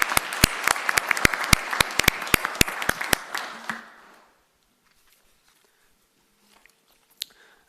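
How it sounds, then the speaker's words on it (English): Scattered hand claps at a city council meeting ring out sharply and close for a few seconds, then fade into near silence with one last isolated clap. "Can we give him a round of applause?"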